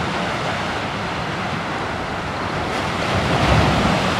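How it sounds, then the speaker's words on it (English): Surf washing steadily onto the small beach at Baileys Harbor on Lake Michigan in Door County, Wisconsin, a broad continuous rush mixed with wind noise that swells slightly near the end, with no voices. "This is Lake Michigan right here."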